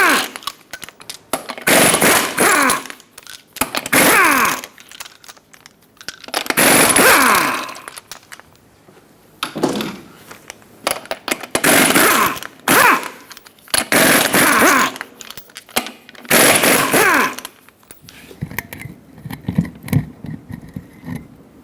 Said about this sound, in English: Use a 21mm socket and remove all 8 lug nuts